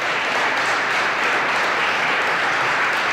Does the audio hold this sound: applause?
yes